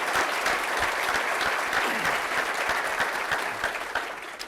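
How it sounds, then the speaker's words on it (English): Audience applause for a panel at a breakfast event, a steady wash of many hands clapping close and full, tapering slightly near the end. "if we could please have a round of applause for our panel."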